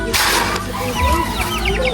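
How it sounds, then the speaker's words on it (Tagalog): Chickens cluck in a short burst, near and loud, over steady outdoor noise at a house building site. "yung mga manok mo na binabantayan dito."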